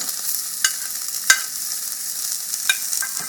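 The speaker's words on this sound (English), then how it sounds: "I'm going to saute some of these herbs, which is the shallot," Shallot, garlic and onions sauté in heated oil, making a steady bright sizzle close up, broken by a few sharp clicks of a utensil stirring against the pan.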